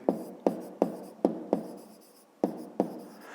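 A pen writes by hand on paper while solving a maths exercise, a series of short scratchy strokes in an uneven rhythm, close and quiet, with no voices.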